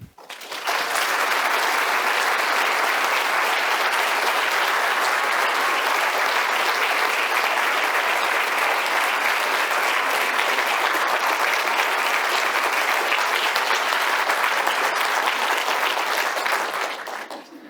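A lecture audience claps in welcome for the speaker, steady dense applause that fills the room for about seventeen seconds before quickly dying away.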